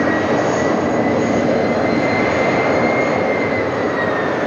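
An Etihad jet airliner at JFK airport roars in a steady, loud, continuous engine rumble with a faint high whine on top, heard outdoors without talk.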